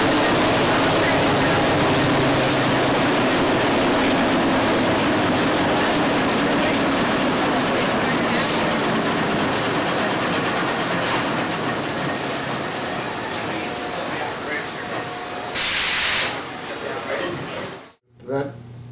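A newspaper printing press runs in-house on its final print job, a loud, dense mechanical roar with rhythmic rattling that continues steadily before a sudden cutoff near the end.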